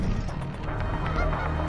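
Birds honk and call steadily in the video game Beautiful Desolation, a dense, goose-like chorus layered over a constant outdoor ambience with no talking.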